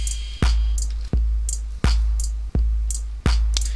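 Soloed drum samples in Ableton Live 9 with raised velocity, five loud, sharp hits evenly spaced about 0.7 seconds apart, each with a strong low thump and bright top, heard alone.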